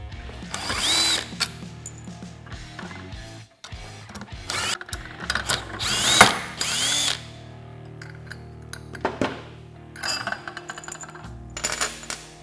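A power drill backs out six Allen-head screws from a Polaris RZR XP 1000 clutch during a Rev1 clutch kit install, with short close whirring bursts separated by pauses and small metallic clinks of parts between them.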